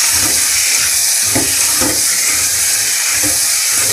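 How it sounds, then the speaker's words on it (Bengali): A ground black pepper and cumin paste fries in a pan with a loud, continuous sizzle and hiss, and soft scraping stirs come through now and then. "এটা আরও কিছুক্ষণ ভাজতে হবে, মোটামুটি 5 মিনিট মতো।"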